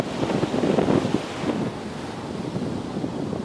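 Strong wind sweeps across a beach at Padre Island National Seashore in Texas, buffeting the microphone with a steady roar and gusty rumbles, the surf churning faintly beneath, with no voices.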